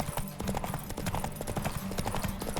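Roach, the horse in The Witcher 3: Hearts of Stone, gallops in a race with rapid, steady hoofbeats pounding over a busy game soundscape, moderately loud and continuous.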